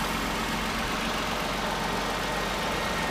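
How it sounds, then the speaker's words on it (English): A 2014 Toyota Avalon V6 idles steadily, giving a constant engine hum heard close and alone for about three seconds. "And Toyota V6 engine."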